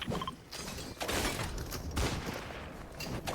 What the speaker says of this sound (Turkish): Rastgele sıkıyorum.